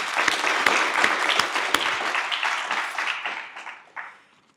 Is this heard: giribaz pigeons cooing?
no